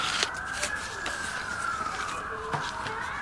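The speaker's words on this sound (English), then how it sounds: "there's sirens in the background." A distant emergency siren wails in a slow rising and falling sweep, faint and steady behind nearby activity at a Fresno estate sale, with a few brief knocks and clicks close by.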